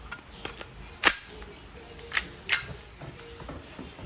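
An Umarex Glock 17 Gen 3 dual-ammo airgun fires pellets from a rotary clip: three sharp, close snapping shots, one early and two in quick succession later, with faint handling noise between.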